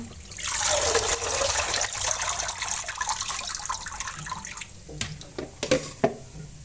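Food being washed under a running kitchen tap: a loud steady rush of water for several seconds, then the flow stops and gives way to a few separate splashes and drips.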